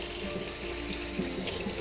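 Dishes being washed under a running kitchen tap, a steady close rush of water into a sink with faint clinks of crockery throughout, no voices.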